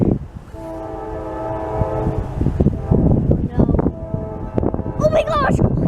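A CSX double-stack freight train passing, its horn sounding for a couple of seconds before the rumble and clatter of cars take over, loud and close, with people talking over it.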